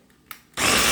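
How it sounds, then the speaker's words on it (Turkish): An electric blender starts up mixing flour and water for börek dough, a few faint clicks and knocks giving way to a sudden loud, steady whirring motor close by. "Ben blender kullanıyorum."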